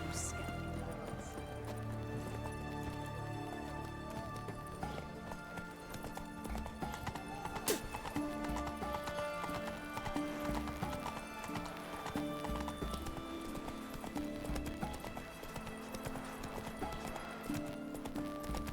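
Horse hooves galloping in The Witcher 3, a steady clip-clop rhythm under game music, with occasional whinnies and a voice or two.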